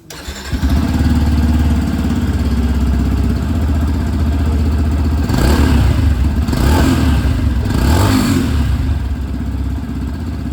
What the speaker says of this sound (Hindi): आवाज़ आप लोग FZX की सुन लीजिए।